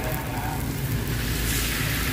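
Steady sizzling and crackling of bánh xèo batter frying in a hot pan over charcoal, continuous and close, with a soft hiss over a low rumble.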